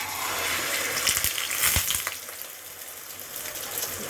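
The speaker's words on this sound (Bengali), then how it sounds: "চলে আসলাম ডিম ভাজতে।" Eggs fry in a pan with a steady, close sizzle and crackle, joined by a few brief scraping stirs near the middle.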